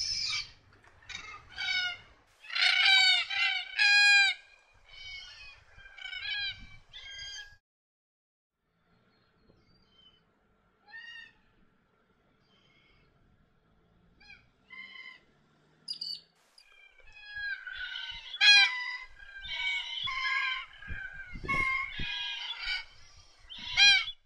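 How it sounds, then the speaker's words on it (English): Red-tailed black cockatoos calling around Townsville in a seed tree, bursts of harsh, rolling calls from several birds, loud and fairly near, separated by a long quiet stretch before calling resumes. "Red-tailed black cockatoos are common to the area around Townsville."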